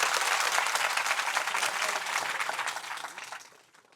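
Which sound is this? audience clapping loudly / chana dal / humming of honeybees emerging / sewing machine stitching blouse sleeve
audience clapping loudly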